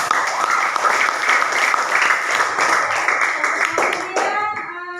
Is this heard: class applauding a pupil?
yes